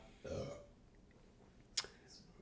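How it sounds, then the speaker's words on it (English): A single short burp from a man, low and brief near the start, followed by quiet background and a sharp click later on. "That was a fantastic burp."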